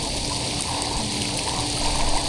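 Water runs steadily from a swimming pool shower, giving a dense, unbroken hiss of spray and stream, loud and close.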